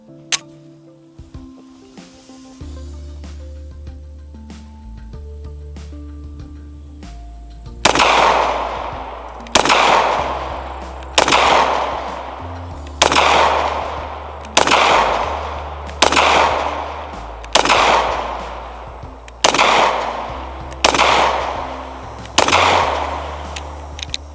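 A Caracal F 9mm pistol fires at a shooting range: about a dozen sharp, loud reports ring out at a steady, unhurried pace, each followed by a short echoing decay over a low background hum.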